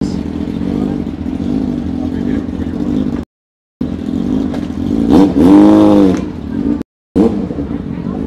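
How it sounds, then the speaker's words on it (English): Loud, huge motorcycle engines revving and roaring past nearby on a Brooklyn street, rising and falling in pitch, with voices and street clatter around them. "Lots of noise over here, so huge motorcycles."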